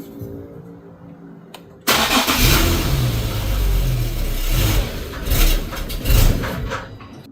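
Infiniti G37 with a dead fuel pump: a starter cranks and the engine catches with a loud rumble, runs roughly for several seconds with a couple of surges, then falters as it stalls, heard close up.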